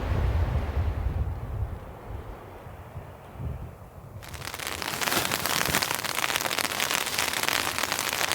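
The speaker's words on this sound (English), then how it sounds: "It's starting to rain or hail outside." Rain or hail beating on a tent during a cold camping storm, starting as a faint low rumble before a sudden loud, dense hiss of falling drops takes over and keeps on steadily, close and without any voices.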